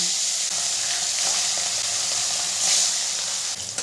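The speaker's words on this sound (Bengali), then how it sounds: "ওই তেলের মধ্যেই আমি বাকি মাছগুলো এবার দিয়ে দেব।" Rohu fish pieces fry in hot oil with a steady, bright sizzle and hiss close to the microphone, holding evenly throughout and swelling briefly near the end, with no talk.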